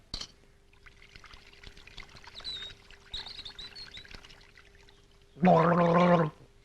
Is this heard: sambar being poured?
yes